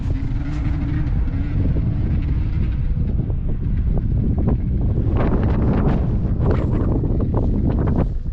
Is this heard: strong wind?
yes